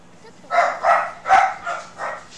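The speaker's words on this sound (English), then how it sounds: "Ugh. Dogs." Dogs barking in a video game: about five short, loud bark bursts in an uneven rhythm, up close, over a quiet background hum.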